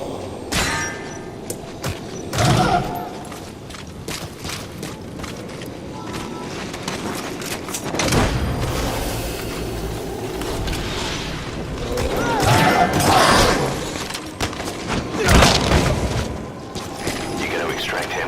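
Muffled gunfire bursts and heavy explosive booms from Metal Gear Solid V: The Phantom Pain, arriving in irregular clusters with mechanical rattles between them, while voices talk over the action.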